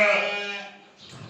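Lambs, a flock of first-season sheep for sale on a farm, give one loud close bleat that fades away, with faint noise at the end.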